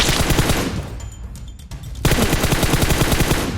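Loud, close automatic gunfire rattles in PUBG Mobile, a rapid burst that stops for about a second and then resumes just as fast, with no talking over it.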